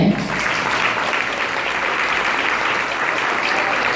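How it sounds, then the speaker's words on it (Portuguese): A church congregation at a Methodist women's gathering bursts into dense, steady applause, a loud continuous wash of many hands clapping with little else audible. "Eu quero uma salva de palmas para essa almarada, gente."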